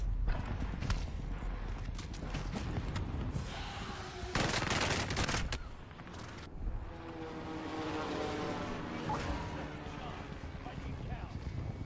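Gunfire from players shooting zombies in a video game, a busy mix of bursts and shots with a dense loud stretch in the middle, set against continuous game noise and people talking.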